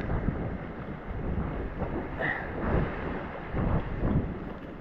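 Sea waves washing over shallow tidal flats during a fly-fishing session at St Anne, a steady broadband rush of surf and water churned by wind buffeting the microphone, swelling slightly in a few surges, with no voices.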